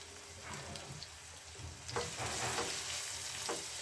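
Vegetables for chow mein sauté in a pan, a soft steady sizzle broken by stirring strokes and scrapes, quiet and close, with no talking.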